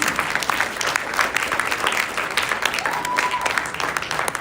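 Audience applause after an elegant classical dance performance by Guru Matangi Srinivasan of Mudra School of Arts, close, lively clapping with distinct individual hand claps over a steady crowd bed and a faint tonal sound partway through.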